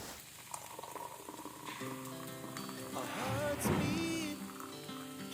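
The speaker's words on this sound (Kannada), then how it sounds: "ಅಷ್ಟರೊಳಗೆ ಟೀ ಕುಡ್ಕೊಳ್ಳೋಣ ಅಂತ ಈಗ ಟೀನ ಕೂಡ ಮಾಡ್ಕೊತಾ ಇದ್ದೀನಿ" Tea simmering in a pot on a home kitchen stove gives off a steady bubbling patter throughout, growing a little louder midway, with other kitchen clatter and tonal sounds mixed in.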